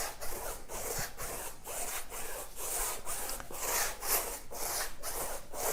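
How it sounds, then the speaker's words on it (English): A brush strokes varnish back and forth across a painted canvas, a steady rhythmic rubbing swish repeating roughly twice a second, close and alone with no talking. "it's just a matter of getting enough on the brush to start distributing it over the canvas"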